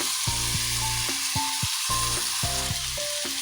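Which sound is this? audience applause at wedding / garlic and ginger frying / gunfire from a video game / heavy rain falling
garlic and ginger frying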